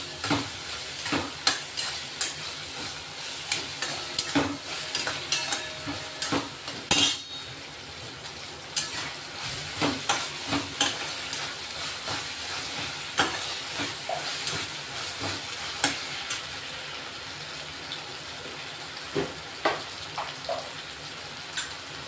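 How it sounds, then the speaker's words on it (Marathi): Peanuts stir-fried in a pan while making a dry sprouted moth bean dish, with a steady sizzle broken by frequent scraping and stirring clicks, close and fairly loud throughout, no talking. "शेंगदाणे टाकून घेऊ. आता ते आपण चांगले परतून घेणार आहे."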